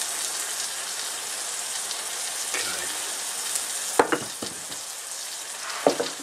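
Potatoes and mushrooms fry in a pan with a steady, even sizzle, broken late by a few sharp clinks and scrapes from stirring.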